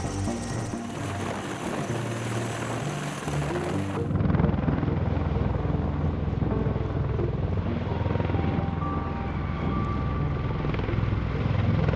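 A V-22 Osprey tiltrotor aircraft lifts off, its rotors giving a loud, steady whirring roar that swells and thickens partway through and then holds, close and continuous, with no voices.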